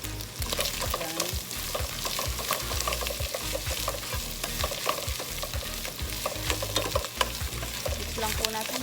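Pork menudo with tomato paste sizzling in a pan while being stirred, rhythmic scraping strokes over continuous frying hiss, close and fairly loud, no talking.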